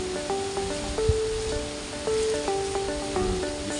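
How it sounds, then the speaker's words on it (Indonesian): Tap water runs steadily into a pipe flow apparatus in a fluid mechanics lab, a broad rushing hiss with faint tonal hum and occasional clicks, close and continuous with no talk. "selanjutnya kita bisa lakukan untuk pengisian air keran"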